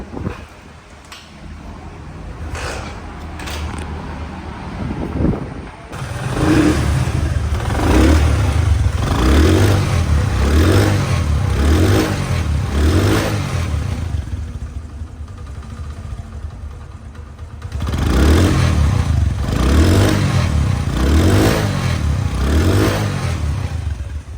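A second-hand Honda CD 80 motorcycle engine runs close by, starting with a low idle and then revving repeatedly in rhythmic surges. A second burst of throttle follows near the end, with no talking.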